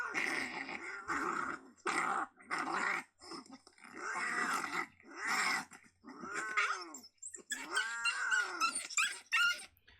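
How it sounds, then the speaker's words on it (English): Snarling, growling coyote calls clash with harsh yowling cat screeches in repeated loud bursts, a simulated close-up fight between an aggravated coyote and an adult cat. "we pretty much simulated a cat and coyote fight"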